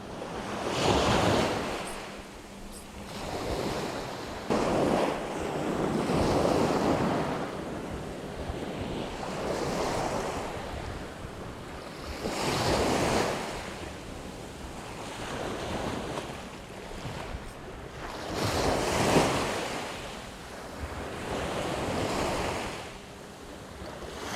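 Sea waves surge and crash onto a rocky fishing shoreline during summer coastal squid fishing, rolling in repeated loud swells with steady wind noise buffeting the microphone and no voices.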